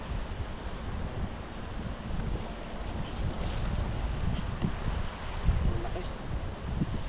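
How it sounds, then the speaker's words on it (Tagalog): Wind blows across a secluded lake beside a river, buffeting the microphone in a constant low rumble with gentle gusts and no clear other sounds. "Hangin po."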